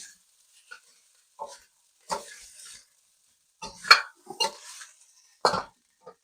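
Fried rice with sriracha and rice vinegar tossed in a pan, bursts of scraping and sizzling in short separate strokes with quiet gaps between them, no voices.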